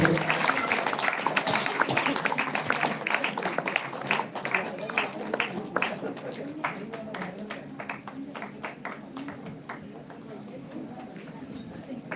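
Applause from an audience at a live Hindi poetry and tea gathering, a dense patter of clapping that runs the whole length, strong at first and easing slightly later, with voices mixed in underneath.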